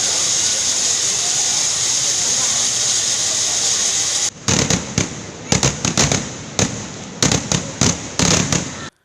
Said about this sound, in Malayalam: പനമണ്ണ ശശി പൊതുവാളിന്റെ പ്രമാണത്തിൽ ശതമേളലയം, പഞ്ചാരിമേളം, കമ്പം കത്തിക്കൽ, വെടിക്കെട്ട് എന്നിവ നടന്നു.